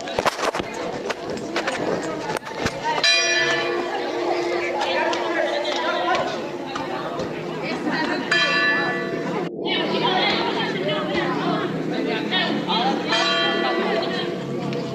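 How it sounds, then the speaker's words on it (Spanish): Church bells ring out in repeated strokes over a busy outdoor scene with people chattering and moving about. "vamos a buscar, qué sé yo, las campanas de la iglesia"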